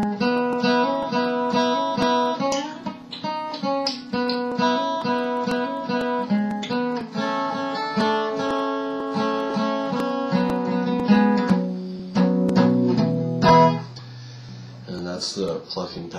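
Guitar strumming pattern for a song with steady rhythmic chord strums and some palm-muted strokes, close and clear, shifting to slower, sparser notes near the end, with no talking.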